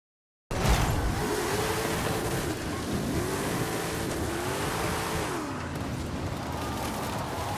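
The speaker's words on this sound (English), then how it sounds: "It's time to test the Range Rover in a drag race." Range Rover engine revving and accelerating hard in a Forza Horizon 5 drag race, loud and steady with rising and falling gear-change sweeps that repeat across the run, with no talk over it.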